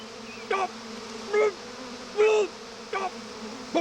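Cartoon bees from The Simpsons buzz in several short, loud bursts, each a droning hum that swells and cuts off, separated by brief quiet gaps, with no talk.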